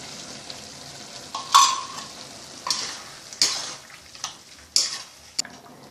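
Ground paste is stirred into a boiling vegetable kurma, producing a run of five or six distinct wet stirring scrapes with soft sizzling, each stroke loud and close.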